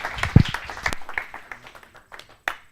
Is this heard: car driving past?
no